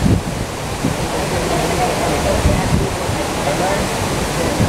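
Dua Warna waterfall, roughly 100 meters high, in Sibolangit, North Sumatra, gives a steady rushing roar with some wind buffeting on the microphone while someone talks over it.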